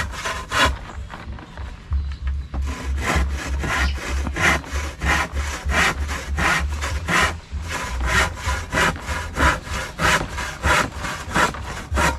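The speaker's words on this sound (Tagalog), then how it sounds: "talim na lagari natin" Steady back-and-forth sawing through wood, rhythmic strokes repeating rapidly and evenly, close and loud, with no talking.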